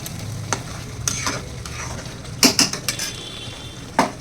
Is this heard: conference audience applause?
no